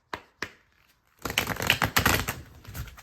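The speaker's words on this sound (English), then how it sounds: "I'm going to shuffle the cards" Tarot cards are shuffled close up: two sharp taps, a short pause, then a dense rapid riffling flutter of cards lasting about two seconds.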